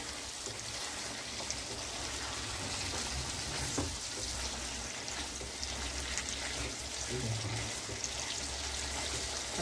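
Chicken pieces for lemon chicken fry in a pan with a steady, dense sizzle and crackle, close and continuous, with faint occasional stirring.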